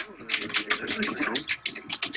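Rapid keyboard typing, a steady patter of clicks close by, with faint voices murmuring underneath.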